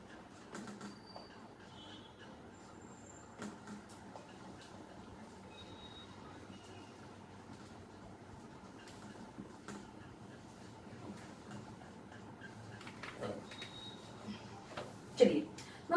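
A train running on rails, heard faintly and at a distance as a low rumble with scattered clicks and a few high squeals, building slightly toward the end.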